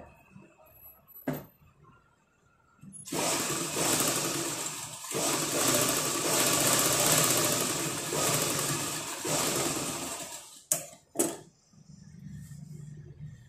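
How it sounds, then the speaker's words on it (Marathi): Sewing machine stitching tucks on a blouse, running in a loud, steady whir for about seven seconds, with a few brief clicks before and after. "आता हा टक्स शिवून घेऊया।"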